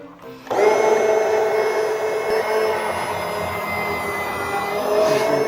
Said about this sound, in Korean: 이런 자그마한 가정용 육절기 사용하셔도 충분히 잠봉 써실 수 있습니다. 제가 한번 보여드릴게요. 이렇게 얇게 썰어져서 나오거든요.